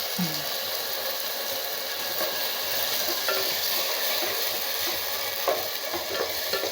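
Tomatoes sauté in a pan, a steady moderate sizzle with occasional scraping from stirring, close and without any speech.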